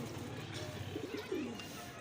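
Pigeons coo softly nearby, a couple of short throaty calls over a low background hum.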